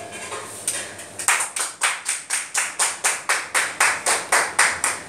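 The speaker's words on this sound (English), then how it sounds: "Girls, clap." A group of schoolgirls in a classroom claps in unison, about fourteen crisp, evenly spaced claps in a steady rhythm following a brief patter of scattered clapping, with no talking over it.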